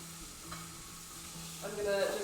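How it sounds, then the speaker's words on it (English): Beef sizzles and fries in a pan as filling for egg rolls, a close crackling hiss with stirring scrapes that gets louder near the end. "Okay, now I'm going to add my beef in."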